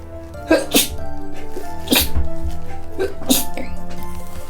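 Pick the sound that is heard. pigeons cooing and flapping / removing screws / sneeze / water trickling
sneeze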